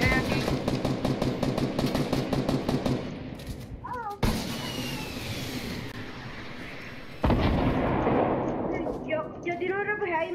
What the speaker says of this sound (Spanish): Yo tiro un RPG ahí y me suicido.